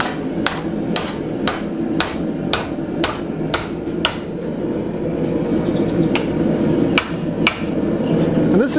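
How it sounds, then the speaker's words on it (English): A hammer strikes a steel stake clamped in a blacksmith's leg vise to bend it, about a dozen sharp metallic blows, quick and evenly spaced at first, then slower and irregular over a steady background hum. "Those vices, hammering on it like this, all that is going straight into the screw."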